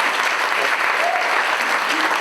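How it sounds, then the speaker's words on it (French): Audience applause at a French stand-up comedy show, a short steady burst of clapping from a crowd, loud and continuous. "Vous pouvez applaudir."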